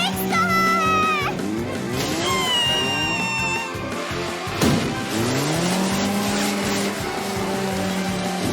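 A runaway cartoon car with no brakes careens along in Masha and the Bear, its engine whining and tires squealing through a busy mix of music and shouting voices, with a sharp crash-like burst near the middle.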